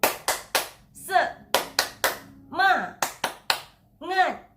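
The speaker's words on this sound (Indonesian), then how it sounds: "Yuk, tepuk semangat." A teacher claps out a rhythmic spirit-clap routine for a children's home-learning lesson: quick bursts of two or three sharp, close claps alternate with short chanted vocal phrases.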